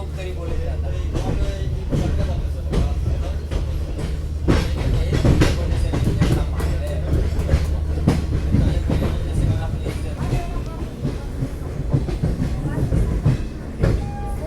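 A special passenger train on the Dedicated Freight Corridor pulls into New Delhi railway station, its wheels clattering over rail joints in loud, uneven clicks and thuds above a low rumble, with some voices in the background.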